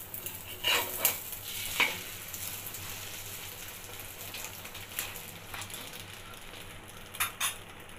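An egg omelette for Hakka noodles fries gently in a pan, a soft steady sizzle broken by several sharp scrapes and clinks of a spatula stirring against the metal, with no voices.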